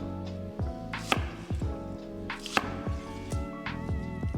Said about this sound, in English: Same thing with our onion. Just gonna cut it